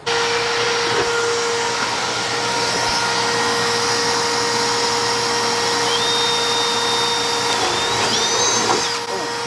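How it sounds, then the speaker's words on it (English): Drilling through a carbon fiber part for an AE86: a steady, loud, whining motor drone runs throughout, with a rising pitch sweep near the end. "And then we will drill through the top of this."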